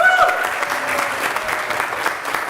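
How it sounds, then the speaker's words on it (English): Audience at a congregational assembly meeting clapping in a moderate, steady round of applause for a few seconds, with faint voices murmuring underneath. "It's okay, we can still clap."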